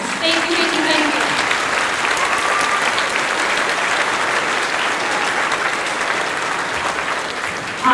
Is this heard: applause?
yes